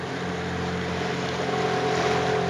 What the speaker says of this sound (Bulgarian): You go with the motorboat and you make a big jump!